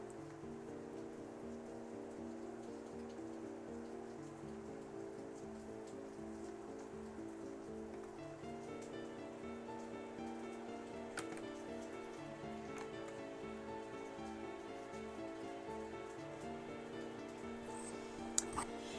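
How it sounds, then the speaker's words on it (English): Steady rain falls outside, a dense, even patter of drops on a surface that holds constant throughout with no pauses, a low hum beneath it and a couple of faint clicks near the end. "the rain isn't so hard that it's gonna do damage to my car"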